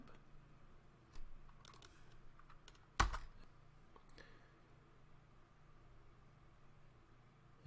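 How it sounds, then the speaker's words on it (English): Light, scattered keystrokes on a computer keyboard tap out a short command, faint clicks spread irregularly with one sharper key press standing out, in a quiet room. "Next, we're going to type man cron"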